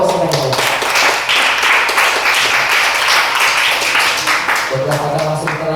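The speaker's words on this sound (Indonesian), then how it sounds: "Tepuk tangan untuk pasukan itu." Audience applause at a village Quran recital competition quiz round (Fahmil Quran, cerdas cermat) in Bakungan, a steady dense clapping wash that fills the whole stretch at high level, with a voice sounding near the start and again at the end.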